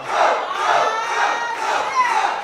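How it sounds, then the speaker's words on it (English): Wrestling fans roar and shout in a packed independent-promotion arena during a title match, a loud, sustained wall of crowd noise with swelling peaks and no clear single voice. "This crowd reaction for the Flying Fro, Michael Walker."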